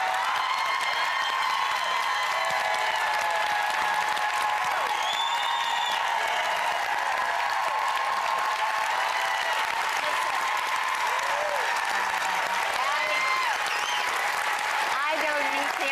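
Studio audience applause at a television talk show, a sustained dense wash of clapping with some cheering that runs steadily throughout, loud and close, with voices talking over it at times.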